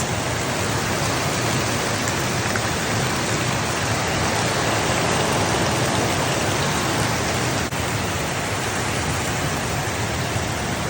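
Heavy rain falling outdoors in a rural Philippine province, a dense, steady hiss of drops on surfaces, loud and continuous throughout.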